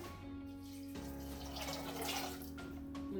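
Water is poured into a pot holding hawthorn berries and cider vinegar, a soft, continuous close-up trickle and splash that swells gradually over a few seconds, quiet and without talk.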